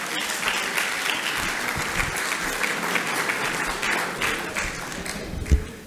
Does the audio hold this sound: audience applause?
yes